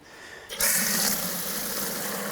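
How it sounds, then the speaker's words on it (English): Water gushes hard from a hose into a car-wash bucket being filled for shampoo. A sudden loud rush starts half a second in and keeps up as a steady, close roar to the end, with no talking. "Fill up our bucket"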